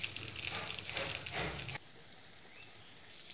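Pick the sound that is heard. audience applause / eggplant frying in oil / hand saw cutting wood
eggplant frying in oil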